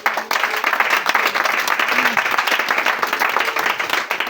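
A congregation at a French-language Christian church service bursts into loud, sustained applause and cheering acclaim, dense clapping close and continuous throughout, with voices mixed in.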